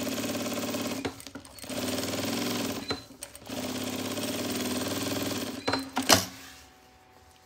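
A sewing machine runs in steady, buzzing bursts while stitching fabric for a pharmacy-style necessaire, with brief pauses between runs and a sharper clatter near the end; no talking.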